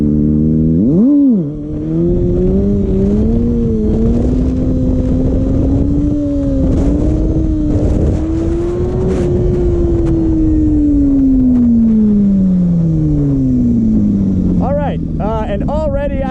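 Kawasaki ZX6R Ninja motorcycle held in first gear during a clutch-up wheelie, its engine droning steadily then rising and falling in pitch over a long rev, loud and close, with wind rush and a voice talking over it.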